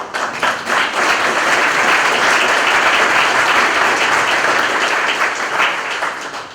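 An audience claps loudly at a formal ceremony, a dense, sustained burst that swells quickly, holds steady for several seconds, then tapers off near the end.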